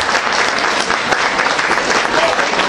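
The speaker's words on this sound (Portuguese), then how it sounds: "eu gostaria de uma salva de palmas para as 11 concorrentes ao título de Rainha da Expo Tour" A crowd at the Rainha da Expo pageant applauds the eleven contestants, giving a dense, steady wash of loud clapping that fills the whole moment without pause.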